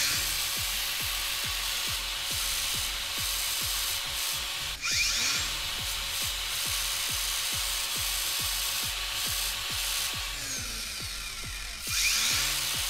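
Repetitive back-and-forth sanding strokes on a car part in Gas Station Simulator, a steady scraping rhythm of many even rubs running continuously at moderate level with no talking.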